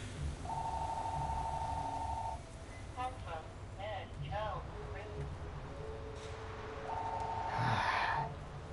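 A phone ringing in Shadowrun Hong Kong, a steady electronic tone at the start and again near the end, with chirpy game sounds in between over a low ambient background.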